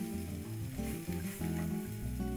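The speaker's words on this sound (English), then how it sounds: "The pig's foot and meats are also fried separately." Pig's foot and other meats sizzle and fry in a pan for a traditional Macau snack, a steady, loud, close crackle with low cooking hum and no talking.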